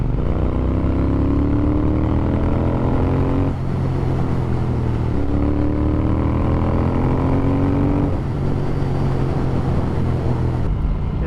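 A Triumph Speed Twin motorcycle with its Vance and Hines dB-killer baffles removed revs hard and loud up toward the limiter three times, each rising climb cutting off and falling back, the exhaust raspy and close.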